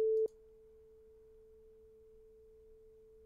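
Two steady sine tones play together, partly out of phase, as one clean, constant hum after a brief louder onset.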